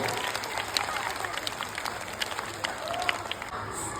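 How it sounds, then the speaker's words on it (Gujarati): A group claps steadily in sustained applause, with some voices mixed in. "આગળ મિત્રો જોરદાર તાળીઓથી આપણે બતાવી લઈએ"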